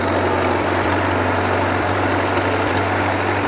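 The engine of a 1938 Case RC tractor idles close by, a loud, steady low-pitched chug with an even beat that never changes.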